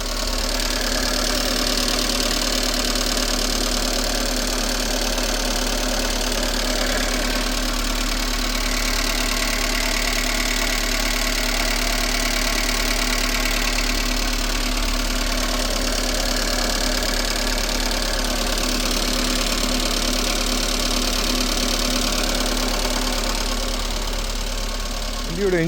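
A 2010 Maruti Suzuki Eeco petrol van engine runs steadily at idle, a continuous close mechanical hum and rattle with a faint ticking that holds level and alone throughout.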